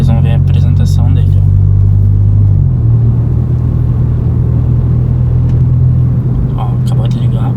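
A 2023 Volkswagen Polo GTS fires up on a dark street, a brief starter whir dropping into a steady low idle rumble, close and loud, with quiet whispering at the edges.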